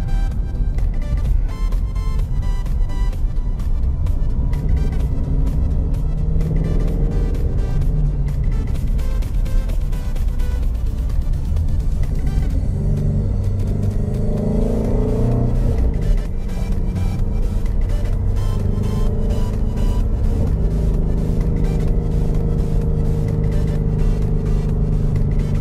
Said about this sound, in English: I just love that sport exhaust.